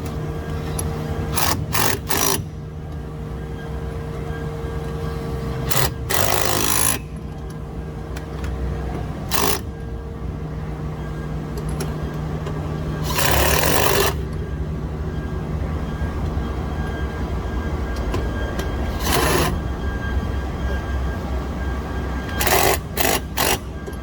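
Makita power tool tightening fittings on a mini truck, several short loud mechanical bursts spaced out over a steady background hum.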